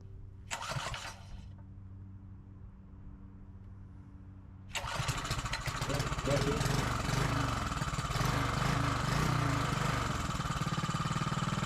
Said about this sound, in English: There he is. That's Biggs, I remember.